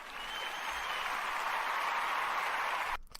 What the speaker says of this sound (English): I gave you an applause